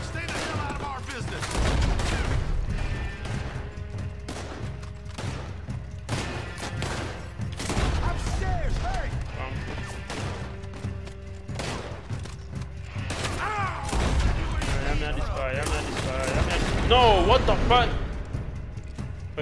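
Gunfire in Red Dead Redemption 2, with repeated sharp shots scattered through a chaotic fight and an excited voice talking over much of it.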